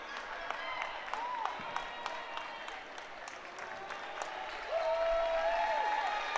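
Crowd applause from fans at a high school boys basketball senior night game in a gym, a steady wash of clapping and cheering with squeaky whistle-like tones rising above it toward the end.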